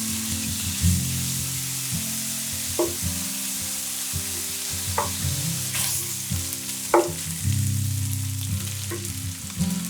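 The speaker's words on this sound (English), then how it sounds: "Begin by dicing and frying the bacon." Diced bacon frying in a pan for cheesy bacon fritters gives a steady, close sizzle and crackle, with occasional louder pops and spatters over a continuous hiss.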